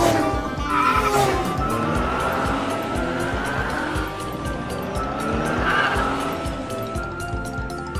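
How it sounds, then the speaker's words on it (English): Cartoon remote-controlled cars race each other, their motors whining and tyres squealing among bright cartoon sound effects, loud and busy throughout. "Excavator Scoop and the robots are playing with remote-controlled cars."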